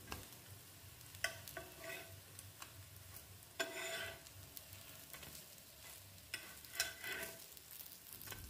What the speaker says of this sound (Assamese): গেছৰ ফ্লেমটো মই ল' মিডিয়াম বা মিডিয়াম কৰিয়ে এইখন লাহে লাহে ভাজি থাকিলোঁ